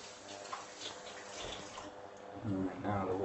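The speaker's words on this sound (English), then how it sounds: "Right now the water's coming on well." Tap water runs steadily from a kitchen faucet while cooking eggs, a continuous hiss that grows fuller and louder toward the end, with a person talking over it.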